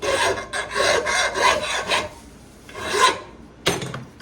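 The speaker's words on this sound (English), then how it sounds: "we're gonna take a flat file and we're gonna get rid of these burrs" A flat file rasps along the edge of a lawn mower blade to knock off burrs, giving several close, gritty back-and-forth strokes with a short pause before a final stroke.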